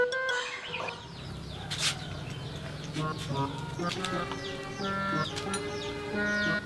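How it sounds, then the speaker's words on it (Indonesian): Turkeys cluck and chatter in a farmyard, with several overlapping calls at moderate distance over a busy outdoor background, and people talking now and then. "Pitik kalkun."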